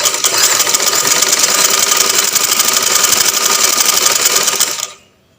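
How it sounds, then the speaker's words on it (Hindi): A sewing machine stitches along the curved edge of a piece of fabric with a fast, steady mechanical whirr up close. It stops abruptly near the end. "आपने इस पर किनारी की सिलाई बनानी है ऐसे।"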